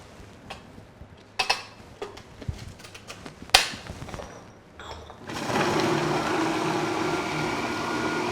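A Robot-Coupe food processor starts up and runs steadily, blending almond paste, citrus zest and caster sugar for a biscuit layer. Scattered clicks and kitchen clatter come before the motor settles into a continuous whir.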